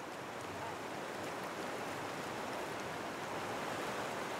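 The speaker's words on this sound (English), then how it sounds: "Even in the summer, this mountain river flows through the valley as a wild stream." A wild mountain river rushes through a valley in northern Albania, a steady, close, broadband roar of flowing water with no pauses or voices.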